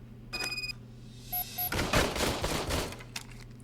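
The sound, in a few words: service weapon gunfire test in video game Robocop: Rogue City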